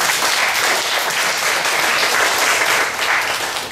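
Sustained applause from a church congregation honoring members who finished their first discipleship training, dense steady clapping filling the room without a break.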